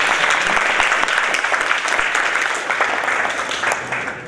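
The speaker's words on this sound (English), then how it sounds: "can I just ask for two rounds of applause?" Conference audience at a literature session applauding two presenters, a loud, dense wash of sustained clapping that holds steady and tapers slightly at the end.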